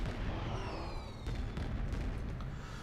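Fireworks in the space game Star Trek Online set off a steady barrage of booming bursts and crackles, with thin descending whistles streaking through a dense, rumbling bed of noise.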